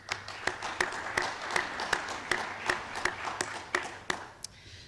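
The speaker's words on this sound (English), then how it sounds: "Let's give a round of applause for our candidates" Audience applause for school board candidates at a meet-the-candidates event, a steady patter of clapping with sharp individual claps standing out, moderately loud and tapering off at the end.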